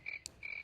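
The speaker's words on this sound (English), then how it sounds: "While the crickets are churning and chirping" Crickets chirping at night: two sustained high trills, each lasting about a tenth of a second or more, with a brief sharper burst between them, heard fairly faint and with no talking.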